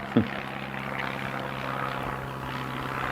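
A propeller airplane drones overhead during an outdoor speech, a steady broadband roar that stays even for several seconds. A single soft knock comes at the start.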